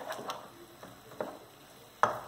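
Food being stirred as it melts in a pan, with a few separate scraping strokes and a sharper clink near the end over a faint background.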